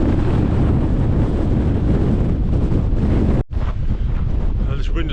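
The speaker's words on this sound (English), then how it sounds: "this wind has been absolutely relentless all the way down to this point" Strong, relentless wind buffets the microphone on an exposed hilltop descent of Pen y Ghent in the Yorkshire Dales, a loud continuous roar broken by one brief dip near the end.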